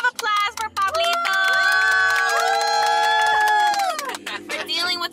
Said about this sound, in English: Round of applause for Pablito.